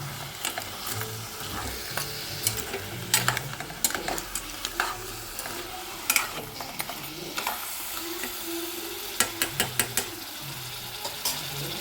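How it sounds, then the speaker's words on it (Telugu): Crabs fry in a hot pan, giving a steady sizzle. Scraping clinks from a spoon stirring them through the oil come at irregular intervals. "పీతలు వేసి కలుపుకున్నాం."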